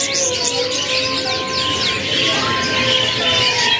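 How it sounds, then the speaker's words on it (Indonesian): Canaries in a bird shop, a steady stream of close, bright chirps and trilling twitters with no gaps over a constant background hum. "kita lihat juga untuk penampakan burung kenari seri AFS dengan seri terbaru juga ataupun stok terbaru"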